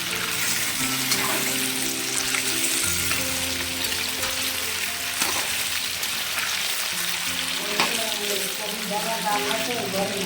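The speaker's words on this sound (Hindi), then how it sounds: "और यहाँ पे आलू फ्राई हो रहे हैं दम आलू के लिए।" Potatoes for dum aloo fry in hot oil with a constant broadband sizzle throughout, while voices and tonal background sounds run over it in a home kitchen.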